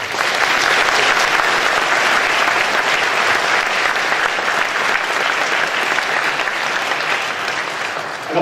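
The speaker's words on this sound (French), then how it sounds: "je demande de les applaudir." Audience applauding municipal councillors during a mayor's speech in a French town hall, dense loud continuous clapping from a large crowd lasting throughout, with no voices over it.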